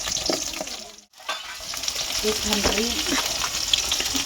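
Onions dropped into hot oil with chillies for a tribal-style curry sizzle loudly and steadily at close range, with a brief dip at the start and a faint voice murmuring in the background.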